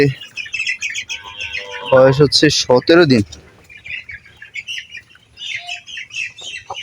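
Seventeen-day-old broiler chicks in a 550-square-foot shed peep and chirp in a continuous high chatter, with a louder squawk burst midway, while someone talks over them.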